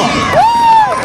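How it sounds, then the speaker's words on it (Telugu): At an Independence Day gathering with a trained-dog performance, a crowd including children cheers, and one sustained, rising whistle stands out above the noise. "గట్టిగా చప్పట్లు"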